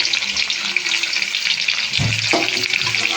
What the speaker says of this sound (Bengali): তেলটা গরম হয়ে গেছে, আমি দিয়ে দেবো সবজিগুলো